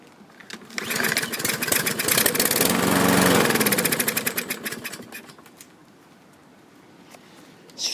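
A lawn mower with bad fuel fires up into a loud, rough run for a few seconds, then dies back to quiet, with a faint clatter at the end.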